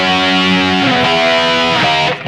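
An electric guitar played through a BOSS eBand with overdrive distortion, noise gate, EQ and chorus rings out in loud, sustained chords that shift pitch before cutting off.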